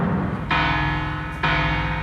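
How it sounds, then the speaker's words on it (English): A Make Noise 0-COAST synthesizer patched with its slope into linear FM, giving sustained metallic bell-like tones with two bright struck attacks about a second apart that ring on loudly with rich inharmonic overtones. "those are kind of like more bell-like sounds you can get out of it."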